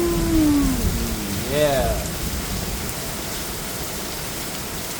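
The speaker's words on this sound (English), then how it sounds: "I don't know if I've ever seen it rain like this before." Heavy rain pours down in Chandler, Arizona, a dense, loud and continuous roar like a waterfall, with a voice briefly heard near the start.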